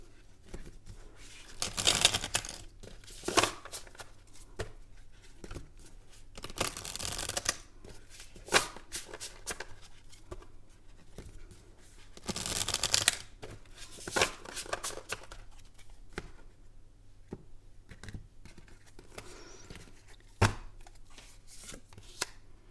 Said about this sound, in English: Let's see if I can shuffle.